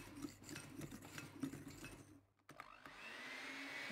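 Electric hand mixer whirring at medium speed as it beats egg yolks with sugar for a mocha roll sponge, a faint steady motor hum with rubbing scrapes, pausing briefly and then resuming.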